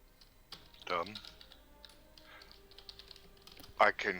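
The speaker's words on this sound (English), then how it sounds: "I can hear your keyboard." Computer keyboard typing comes in quick, light clicks, moderately close, while a voice talks faintly in the background.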